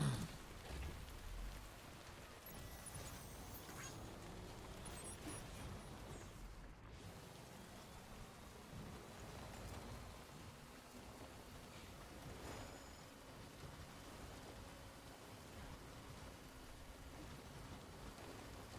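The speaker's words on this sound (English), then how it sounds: "Damn rain won't quit." Steady rain falling in a Death Stranding game scene, a continuous broadband hiss of drops on surfaces that stays even and moderately loud throughout, with no voices.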